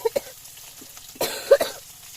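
A few sharp coughs from a person with a cold, separated by short pauses, with one stronger burst of coughing near the end; close and fairly loud, with no talking.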